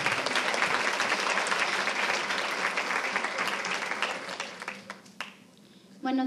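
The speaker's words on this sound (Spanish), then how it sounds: "Recibamos con un fuerte aplauso al Teniente Coronel Elías Sánchez Hernández." An audience at a formal military-related presentation breaks into loud, sustained applause that gradually thins and fades out, with a voice starting to speak right at the end.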